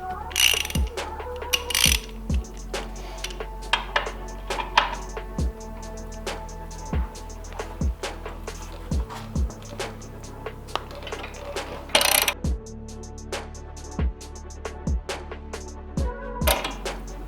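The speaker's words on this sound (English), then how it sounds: "put a little sideways pressure on it as we're cranking out, just to see if we can pull the axle out" Wrench cranking on the front axle of an Indian Scout Bobber motorcycle, a steady series of close metallic ratchet clicks and knocks spread over many seconds, with no voice.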